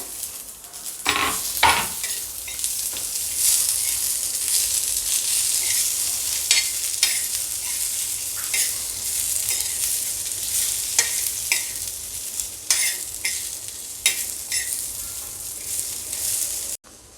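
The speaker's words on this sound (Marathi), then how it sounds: "खोबऱ्याचे काप टाकणार आहे आणि कांदा सुद्धा आता परत एकदा भाजून घेऊया" Sliced onion and coconut roast and sizzle in a pan, under a continuous frying hiss broken by frequent scraping stirs and clinks of a spoon against the metal.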